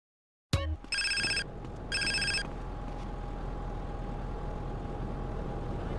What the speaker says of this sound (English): When you actually leave the casino, when you're actually in debt, you'll actually get this specific phone call right here.